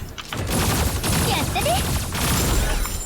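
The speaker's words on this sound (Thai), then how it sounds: "ปืนธรรมดามันยิงเบานะครับ" Gunfire in a Jumbo Jet airplane video game, heard as a dense, continuous rattle of shots and booms that fills the whole stretch at steady loudness.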